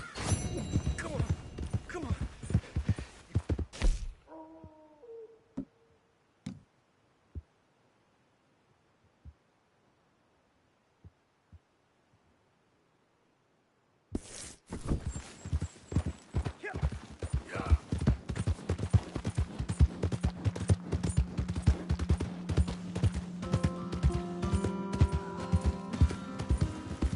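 Horse hooves clip-clop in Red Dead Redemption II, busy and close at the start, then silence, then a long stretch of dense game sound with the hooves mixed under music and other noise.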